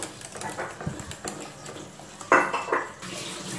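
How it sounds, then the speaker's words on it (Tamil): A spoon stirs chocolate pudding mixture in a pan, giving soft scraping and a few sharper metallic clinks against the pan, fairly close and quiet with no voices. "கட்டி வராமல் வந்து நம்ம இந்த மாதிரி கிண்டிக்கிட்டே இருக்கணும்"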